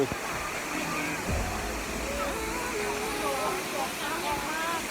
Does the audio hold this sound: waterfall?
yes